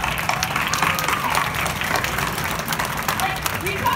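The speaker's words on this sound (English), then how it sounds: "give yourself a clap" Crowd at a business awards event claps and cheers together, a loud continuous burst of applause mixed with voices and chatter throughout.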